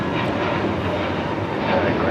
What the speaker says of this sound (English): This is JetBlue 524 taking off to JFK on the A321neo.